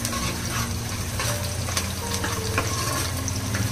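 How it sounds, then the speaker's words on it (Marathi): Cracked cardamom pods roasting in a hot pan for veg potato dum biryani, giving a steady, close sizzle and light crackle with faint scraping throughout a short stretch. "आणि 2-3 इलायची फोडून टाकायच्या बघा अशा. त्याला चांगलं भाजून घेऊया."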